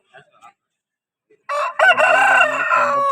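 A fighting rooster at a Vijayawada rooster market crows loudly and close by, one full drawn-out call after a couple of faint short sounds.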